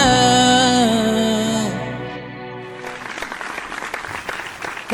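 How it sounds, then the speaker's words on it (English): Audience applause swells as a sung vocal performance ends at a televised singing competition, the held note fading under steady clapping and cheering that carries on to the end. "another round of applause"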